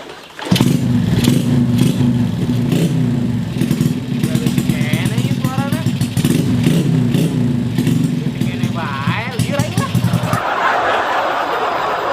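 A motorcycle engine runs steadily with a low, throbbing drone under overlapping comic dialogue and laughter, then cuts out abruptly as it stalls near the end.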